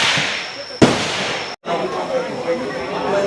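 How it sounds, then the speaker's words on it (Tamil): A sharp gunshot cracks out at the Cu Chi Tunnels shooting range in Vietnam, followed by a brief drop-out, with people talking and general outdoor commotion around it. "இங்கே தான் ஷூட் பண்ணுறாங்க மக்கள்லாம்."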